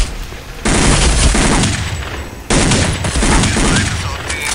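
Heavy gunfire from a tunnel in Counter-Strike: Condition Zero Deleted Scenes comes in two loud, dense bursts of automatic fire, with a brief pause between them.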